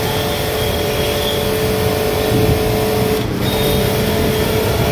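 A BTALI BT 1100 high-pressure washer, a 2200-watt unit rated at 220 bar, runs steadily with a loud, continuous motor drone that barely changes across the whole stretch, with no talking.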